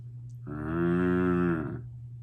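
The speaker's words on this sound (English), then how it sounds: "She moos." A cow gives one long, full moo up close, rising and fading over about a second, over a steady low hum, with no one speaking.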